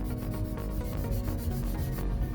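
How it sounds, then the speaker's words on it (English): A 240 grit nail file gently bevels the sides of a gel nail, giving close, steady rhythmic rasping strokes with an even back-and-forth scratch and no talking. "I'm going to take my 240 grit file and just really gently bevel the sides"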